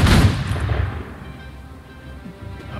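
A weapon fires on command in the Guild Wars 2 game during a shield-block training drill, a single loud boom at the start that rings out and decays into a low rumbling tail.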